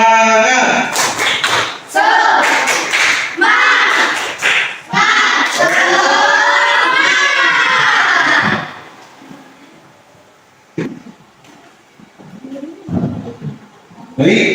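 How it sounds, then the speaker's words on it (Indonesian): A school class does a rhythmic spirit clap: loud group chanting with sharp clapped beats fills the first half, then the room falls quieter with scattered small sounds and brief voices. "Tepuk semangat."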